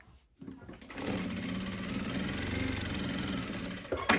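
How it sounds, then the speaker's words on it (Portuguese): Sewing machine stitching closed a handbag strap, starting after a brief pause and then running steadily at a constant whirring pace until it stops near the end. "vamos voltar agora para a máquina. Vou fazer uma costura para fechar aqui a minha alça"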